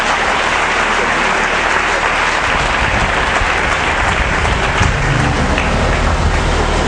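A church congregation at a Sunday service bursts into sustained, loud applause that fills the space evenly from start to finish, a dense wash of clapping hands with no pauses.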